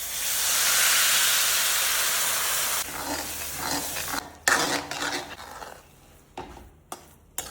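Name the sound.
milk poured into hot roasted semolina and ghee, hissing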